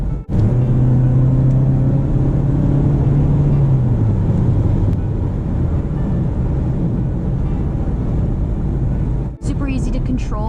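A 2015 Mazda 3 GS four-cylinder engine hums and rumbles steadily while driving, with a rising engine tone early on under continuous road noise.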